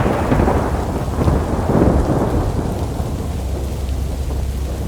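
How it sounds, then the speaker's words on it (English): Loud rumbling thunder rolls over steady heavy rain, a continuous dense wash of downpour with swelling booms around the middle, no voices. "In the corner of my eyes, I saw a flash, followed by a big thunder."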